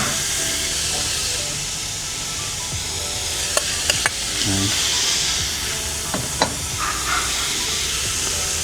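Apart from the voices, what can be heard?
pork frying in a pan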